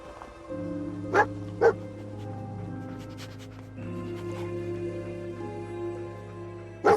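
Dogmeat, the dog companion in the video game Fallout 4, gives a few sharp barks and yips with soft whimpers in between. A sustained musical drone runs under the dog sounds throughout.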